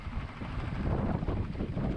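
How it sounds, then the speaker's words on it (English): Strong wind gusts buffet the microphone aboard a boat maneuvering toward a harbor entrance, a loud, rough, continuous roar that swells in the middle. "Now this wind is really gusting in"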